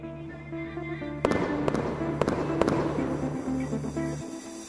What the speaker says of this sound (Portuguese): vamos conferir o efeito do foguete Estalada Luminosa da Fogos Caruaru